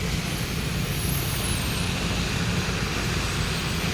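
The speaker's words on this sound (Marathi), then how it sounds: "आता हे रिक्षावाले जात आहे" Auto-rickshaws driving through a flooded market street in Chiplun during heavy rain, a steady dense rumble of engines and rushing water with no gaps, loud and close throughout.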